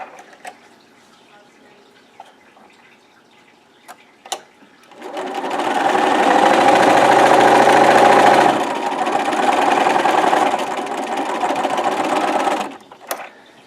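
Sewing machine stitching the seams of a fabric pocket, a steady whirring run of about eight seconds, loud and close, that dips briefly midway and stops abruptly, with faint clicks before and after.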